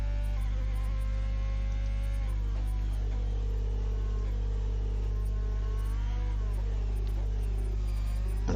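Formula 1 car from F1 2020 at Paul Ricard accelerating hard out of a hairpin, a loud sustained engine whine with rising harmonic pitch sweeps over a steady low drone, no talking.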